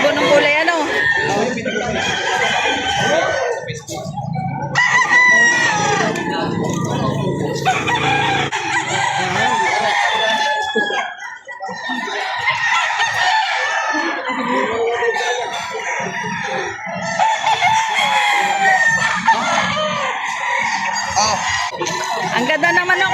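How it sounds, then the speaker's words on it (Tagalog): A rooster crows repeatedly at a livestock auction market in Padre Garcia, Batangas, with loud, close calls and clucking among other fowl, over continuous chatter from people talking nearby. "Ang ganda ng manok yung hawak ni Bossing"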